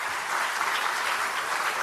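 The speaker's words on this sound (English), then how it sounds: "you can feel free to give them all a round of applause for the amazing work they've done" Steady, dense applause from an audience at a university showcase for law students, a continuous wash of clapping at moderate level with no talking.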